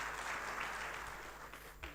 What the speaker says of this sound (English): I'm sure the DCG deserve another resounding applause for this wonderful presentation.